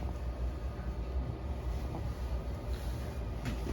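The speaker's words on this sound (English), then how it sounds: "Blower's on." Steady low rumble of a furnace blower fan running after a frozen furnace was repaired, a continuous even hum with no talking.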